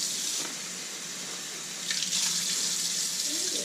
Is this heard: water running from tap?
yes